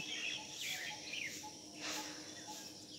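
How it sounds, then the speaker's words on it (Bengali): Birds chirp and call softly on a cool morning after rain, heard from a rooftop as faint, scattered tweets over a quiet background hum. "বেশ সুন্দর পাখি ডাকছে"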